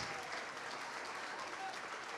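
A church congregation applauding during a worship service, a soft, steady wash of many clapping hands heard from a distance at low level.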